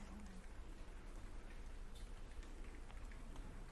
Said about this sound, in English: you start to hear pattering of raindrops on the roof.